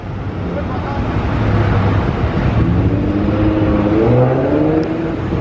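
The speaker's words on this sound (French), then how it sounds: "Il y a une McLaren qui sort mais c'est pas la bonne" A McLaren supercar pulls out in Monaco, its engine note rising and whirring steadily at close range over continuous street and traffic noise.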